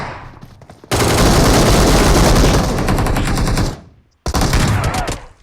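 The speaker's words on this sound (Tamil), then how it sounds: "இவன் எப்படி அங்கன்னா உடனே 100 புல்லட் கல்ல அடிச்சான்" Machine gun fire in a video game: a loud, dense continuous burst lasting several seconds, a short pause of silence, then another sustained burst.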